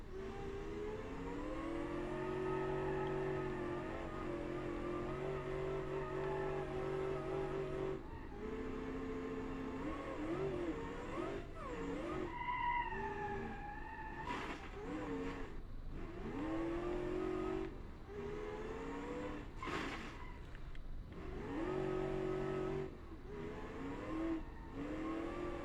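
Off-road Jeep pickup truck driven in BeamNG.drive, its engine revving up and down in repeated surges with brief pauses, gear-change drops and a few sharp tire squeals, fairly faint overall and without talk.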